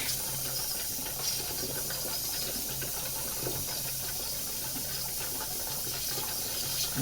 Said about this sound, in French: Tout l'air du ballon sort par là en fait.